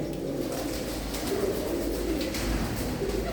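Steady low cooing from several pet pigeons, repeated throaty calls overlapping against a constant background hum, moderately close with no talking.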